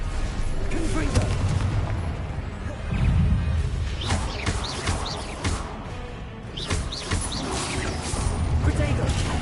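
Explosive bursts from the Confringo spell in Hogwarts Legacy: loud booms and crackling blasts during magical combat, layered with other spell effects and a voice talking throughout.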